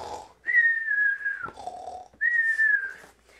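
A voice imitates a grandmother snoring loudly, with two rounds of a low rasping inhale followed by a long, high whistling exhale, close to the microphone and otherwise alone.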